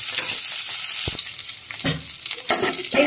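Nigella seeds and curry leaves sizzle loudly in hot mustard oil with a continuous crackling fry, broken by a few clinks and scrapes of stirring in the pan.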